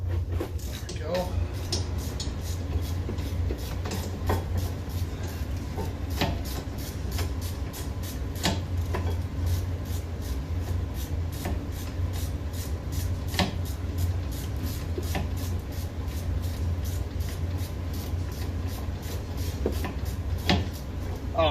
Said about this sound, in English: it's my new free furnace.